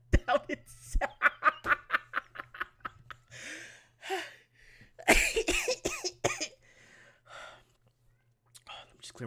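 A nearby person clears their throat with a couple of rough coughs, surrounded by quiet breathy sounds and soft murmuring.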